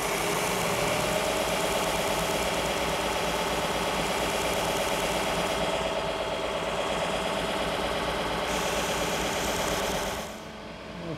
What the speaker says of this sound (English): Then using my sander, I want to sand to the line.